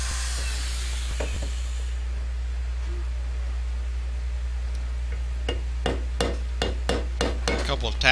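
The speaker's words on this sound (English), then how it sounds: "A couple of taps on the side should help loosen it up" A few sharp metal taps on the side of a gearbox part from a South Bend metal lathe, struck to loosen it, heard as several distinct clicks in the latter half over a steady low workshop hum.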